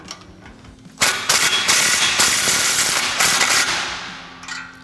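A 3/8-inch impact gun with a 15 mm socket snugs up an exhaust clamp while fitting an MBRP dual exhaust on a 2009-2018 RAM 1500 5.7L, a loud close burst of rattling hammering lasting about three seconds, then tapering off.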